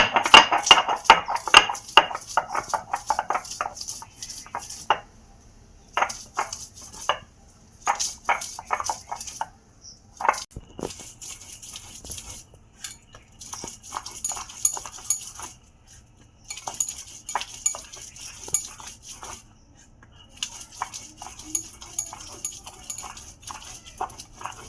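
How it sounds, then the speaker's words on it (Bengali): Ginger and garlic are ground on a stone slab (pata), giving close, rhythmic bursts of gritty scraping and rubbing that start and stop in runs with short pauses and occasional clinks, without talk. "তো আমি এখন আদা রসুনটা পাটায় বেটে নিচ্ছি।"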